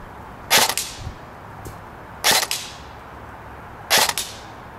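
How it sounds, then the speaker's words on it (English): A Cybergun Colt M4 CQB airsoft rifle fires single shots through a chronograph, three sharp cracks evenly spaced about two seconds apart, each with a short echoing tail, loud and close with no talking. "this over to Mike and we'll get your chronoing going so you can see everything that this Colt has to offer"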